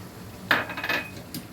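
Brief clinks and scrapes of a utensil against a pan while roasted ground spices are mixed into a jujube pickle, a short cluster of metallic taps followed by one faint later clink.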